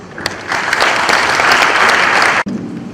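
Steady applause from an audience at the launch of the Edo State Technical Talent Development Policy, a dense, even round of clapping that ends abruptly near the close.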